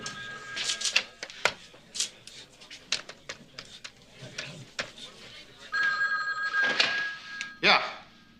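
A telephone bell rings in short bursts amid a busy indoor scene, with people talking over and between the rings.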